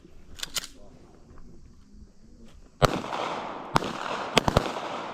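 Pistol fired in rapid succession on an outdoor range at 20 meters: several sharp, loud reports cluster in the second half, with a couple of quieter pops and faint background voices earlier.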